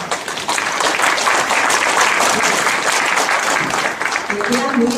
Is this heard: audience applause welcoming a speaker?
yes